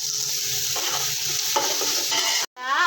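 Onion and green chillies frying in a pan, a loud continuous sizzle with spatula stirring strokes, briefly cut off near the end before the sizzle returns.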